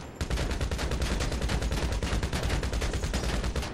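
Sustained rapid gunfire in GTA Online as shots are aimed at an Overflod Entity XF supercar, a dense, loud, continuous automatic burst with no talk.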